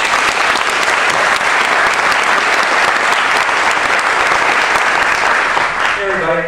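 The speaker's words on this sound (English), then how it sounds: "Let's have a big round of applause for Theodore Belding." Conference audience gives a speaker a loud, sustained round of applause, thick continuous clapping that holds steady before a voice starts at the very end.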